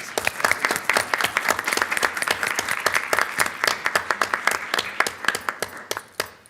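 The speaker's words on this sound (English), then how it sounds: "So let's give him another big round of applause." A school board meeting audience gives a round of applause, distinct individual claps rising above a steady crowd patter, moderately loud and continuing throughout without talk.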